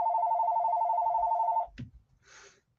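A telephone rings steadily for about a second and a half, a loud, close repeating bell tone in a quiet room, followed by a brief knock and a soft rustle.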